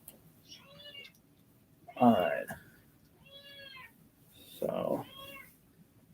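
A house cat meows several times in short, distinct calls, with two louder meows standing out between softer ones, while a person speaks briefly nearby in a quiet indoor room.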